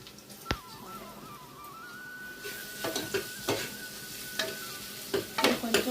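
Ginger garlic paste cooking in a pan: a sharp tap, then a soft sizzle with a thin, steady whistling tone, followed by several close scraping strokes.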